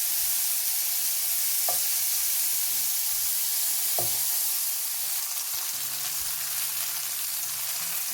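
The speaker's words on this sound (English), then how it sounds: "And then you're going to fry, cook all your beef pieces." Beef pieces searing in a hot pan, a loud continuous sizzle and hiss throughout with a couple of brief knocks and faint scraping, close up with no talking.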